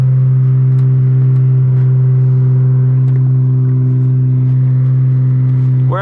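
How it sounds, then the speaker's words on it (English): Nissan R32 GTR engine fitted with an HKS cam, idling loud and close with a deep, steady, lumpy hum and a brief rising tone at the very end. "they've got an R32 GTR running right now with an HKSV cam in it, and it is ultra gnarly"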